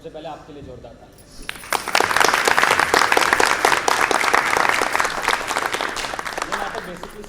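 An audience at a staged performance of the Sanskrit play Urubhangam breaks into loud, sustained clapping that starts abruptly after a quiet opening and carries on densely to the end. A voice speaks briefly before the applause begins.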